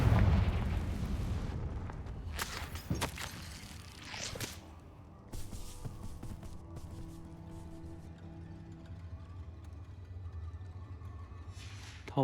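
Confringo blasting spell explosions in the video game Hogwarts Legacy: a heavy opening boom, then two sharp cracking blasts with rumbling tails fading into ambient hum, with no talk.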